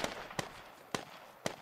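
Single shots fired in a military shooter video game, four sharp, fairly loud cracks spaced irregularly over a short stretch, with no talk.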